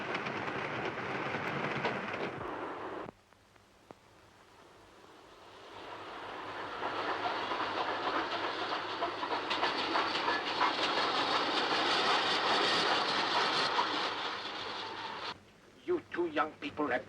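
A train rumbling along the rails in a 1939 film, a steady broad roar with rhythmic clatter that swells and holds, then a brief quieter stretch near the end.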